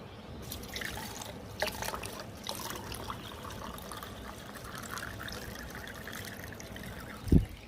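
Water pouring and trickling into a container while sugar water is made with misri crystal sugar, a steady close liquid dribble running for several seconds, ending in a sharp knock.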